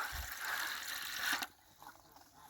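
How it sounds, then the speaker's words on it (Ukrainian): Water rushes from a tap into a container for geese, chickens, ducks and turkeys in a quiet, steady stream for about a second and a half, then cuts off to faint dripping and handling sounds. "тут набираємо водичку для наших пернатих"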